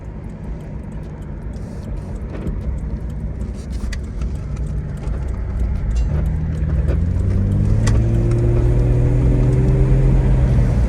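Steady engine rumble of a second-generation Jeep Cherokee XJ while driving, with the pitch climbing as it accelerates in the last few seconds.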